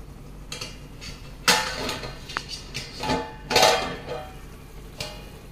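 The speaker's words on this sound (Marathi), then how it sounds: "थोडंसं शिजू देऊ, झाकण लावून ठेवू" A lid is set on a pan of bombil (Bombay duck) curry, with a few metallic clanks and scrapes of cookware up close, spread over several seconds, and no talking.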